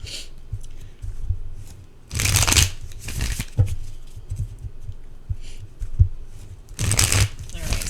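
Tarot cards are shuffled by hand in a few loud, bursty riffles separated by stretches of quieter handling, with a voice talking over them.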